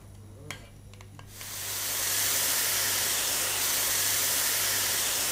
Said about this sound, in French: Dans une poêle chaude, mettre un filet d'huile d'olive, puis ajouter les oignons nouveaux